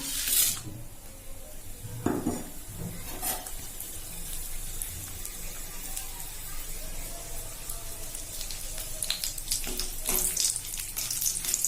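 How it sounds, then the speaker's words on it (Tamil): Water runs and splashes steadily as cooked chana dal is drained through a strainer into a sink, with a few clinks of metal and dishes along the way. "இப்ப இதை வடிகட்டிக்கலாம்"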